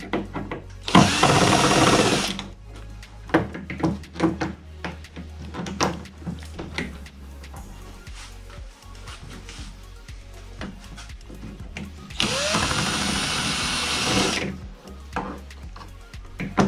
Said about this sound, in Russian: Раскручиваем саморезы вот эти,